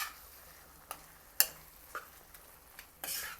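Mashed potato is stirred into a pan mixture for a green peas chaat, a quiet scene of scattered spoon scrapes and soft thuds at irregular intervals over a faint low sizzle.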